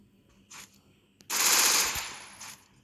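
MP40 submachine gun firing in a video game, a short burst then a sustained rapid stream of shots lasting over a second, loud and close with a few faint sounds around it.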